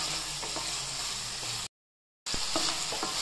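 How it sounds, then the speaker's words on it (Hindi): Tomato, onion, green chili and garlic frying in a pan, a steady close sizzle with soft stirring scrapes, broken by a short silent gap before the sizzling resumes. "हरी मिर्च, लहसुन, सभी चीज़ें देखो अच्छे से भून रही हैं"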